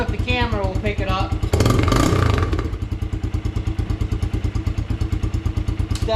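Honda XR150 motorcycle with an aftermarket exhaust and carb jet upgrade, idling close by in a loud, deep, steady thumping beat, with one brief rev partway through and a voice speaking at the start.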